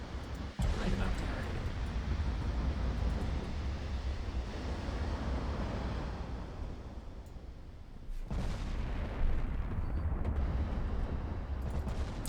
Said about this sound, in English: We're seeing return fire from an enemy battleship.